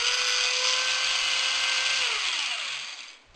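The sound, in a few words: DC electric motor with small gear reducer running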